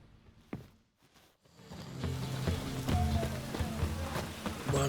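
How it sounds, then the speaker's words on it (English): Steady heavy rain patters and hisses in a video game, Witcher 3, building after a brief quieter stretch, with scattered drips and splashes close by and no voices. "It's raining buckets."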